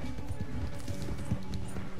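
Horse hooves clip-clopping during riding in Red Dead Redemption 2, a quick rhythmic galloping beat under a constant game ambience, moderately loud and close.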